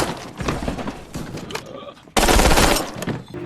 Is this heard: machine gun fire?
yes